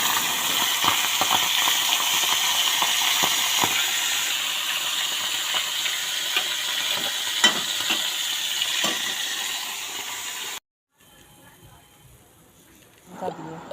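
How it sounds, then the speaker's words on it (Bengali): Whole pomfret frying in mustard oil with salt and turmeric gives a steady, close hiss and crackle, with faint scattered pops, that runs for about ten seconds before cutting to near silence and a brief faint rustle. "কমপ্লিট ফিশটাকে বানানোর জন্য নুন হলুদ দিয়ে সর্ষের তেলে ভেজে নিতে হবে।"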